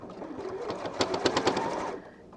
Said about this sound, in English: this machine will get through layers of fabric like butter